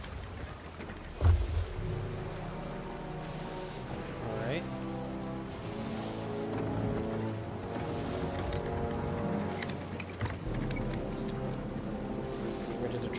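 A sailing ship moves through water in Sea of Thieves, with steady wash of waves against the hull, creaking wood and wind, a thump near the start, and someone talking over parts of it.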